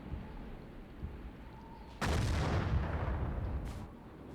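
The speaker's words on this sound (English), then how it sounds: "He's going around just shelling building like a madman." A tank in the Battlefield 1942 video game fires a shell at a building, one loud booming blast that rolls out over steady background game noise and slowly fades.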